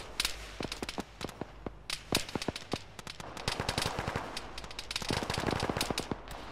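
Sporadic gunfire in the Arma military game: sharp cracking shots in irregular bursts and single pops, some near and loud, others more distant, with no talk over them.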